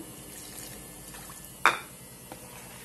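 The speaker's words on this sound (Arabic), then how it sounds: "نديرلو شويه ماء" Water is poured into a cooking pan holding chicken thighs, a soft trickle building to a short sharp splash and gurgle, followed by a quieter second splash against faint kitchen background.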